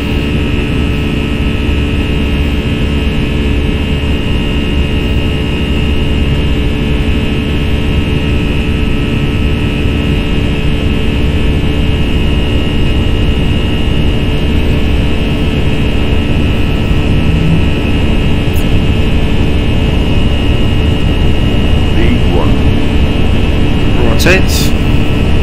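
Steady, loud jet engine roar from an FSLabs A320 at takeoff thrust in the Prepar3D flight simulator, a continuous broadband rumble with a constant whine running the whole time and no talk.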